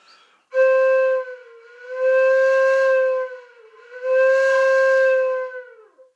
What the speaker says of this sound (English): So as you can hear, you can control the pitch quite a lot.